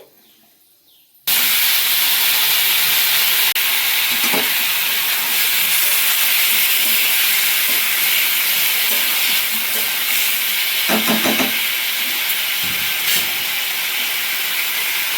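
After a quiet moment, papaya, potato and green banana hit hot mustard oil with five-spice seeds, and a loud, steady sizzle erupts and keeps hissing, with occasional clinks and stirring.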